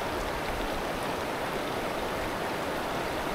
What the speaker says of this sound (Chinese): 在旁边还有一个瀑布。